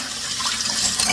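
Strong running tap water pours in a steady, close, hissing stream into a sink while dishes are being washed, brief and unbroken with no talking.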